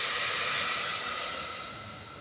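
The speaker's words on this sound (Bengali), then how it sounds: "যতটা দরকার সেদ্ধ করবার জন্য ঠিক ততটা আমি জল এখানে দিয়ে দিলাম।" Water is poured into a pot or pressure cooker holding papaya for boiling, making a steady, soft hissing rush that fades slowly over two seconds.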